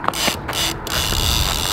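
A fishing reel ratchets and clicks as line pulls out during a fight with a bull shark, a loud steady buzzing rattle with brief gaps, no talk over it.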